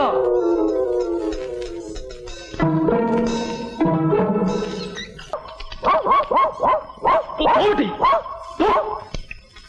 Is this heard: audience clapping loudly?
no